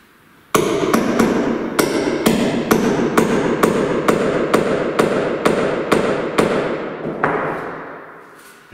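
A hammer drives a pin for a chalk line into a floor screed laid over underfloor heating, ready for large-format tiling: about a dozen loud, sharp, evenly spaced metallic strikes close by, then a last blow after a short pause.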